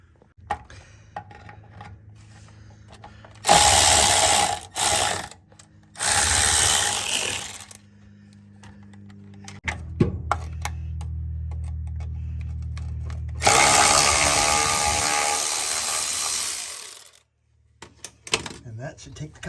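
Ratcheting and tool clatter on a 1967 VW Beetle as front inspection cover bolts are loosened, coming in several loud close bursts separated by quiet pauses, with a low hum in between.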